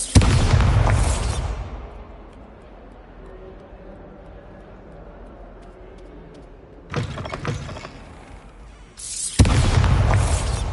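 Bombarda spell blasts in the Hogwarts Legacy video game, a loud burst at the start, then quieter ambience before a second rumbling blast and a final sharp, heavy explosion near the end.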